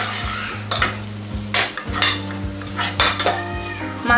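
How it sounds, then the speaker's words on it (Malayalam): Biryani masala being stirred into egg biryani in a pan, with a steady run of close scraping and clinking spoon strokes against the pan over a low background sizzle and no talk. "ബിരിയാണി മസാല കൂടെ ചേർത്ത് നല്ലവണ്ണം മിക്സ് ചെയ്തെടുക്കുക"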